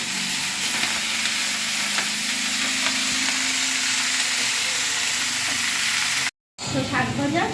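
Greens (saag) frying in a pan with salt and turmeric: a dense, steady sizzle and hiss that continues unbroken, with a brief cut near the end.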